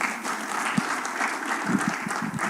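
An audience at a teaching and learning center launch event applauds a group with dense, steady clapping that holds at an even level for the whole stretch.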